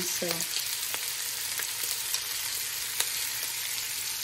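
Mushrooms cook down in a pot for an Italian soup, with a constant moderate sizzle and a few faint, sparse clicks of a utensil, plus a short murmur near the start.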